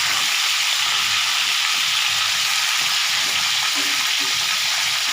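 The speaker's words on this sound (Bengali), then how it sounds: "এটা ভাজা হচ্ছে।" A fish head fries in oil in a pan for mustard-green chorchori, a dense, steady, close sizzle and hiss with faint bubbling underneath.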